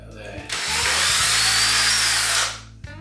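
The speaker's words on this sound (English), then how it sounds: "wood screw drill bit first, just to go through the wood" A power drill bores through wood for mounting a wall guitar hanger, whirring loudly and steadily for about two seconds before spinning down, close up, with a short voice just before it starts.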